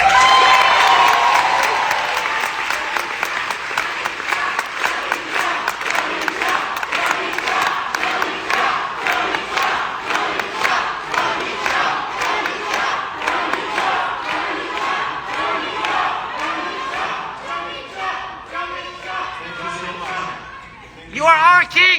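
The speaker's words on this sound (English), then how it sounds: "if you continue with all the cheering, you probably have to stay here for breakfast" A large crowd cheers, shouts and claps loudly during a political speech at a conference hall event, the roar sustained for about twenty seconds with chanting swells.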